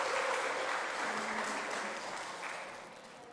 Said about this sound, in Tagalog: isa pang malakas na palakpak para sa Panginoon